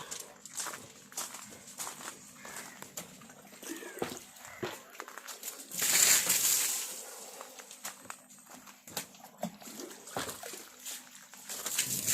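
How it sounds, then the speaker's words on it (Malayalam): Water is poured out and splashes near an animal's cage, a short swelling gush midway through a quiet scene of scattered footsteps and knocks. "വെള്ളം ഒഴിച്ച്"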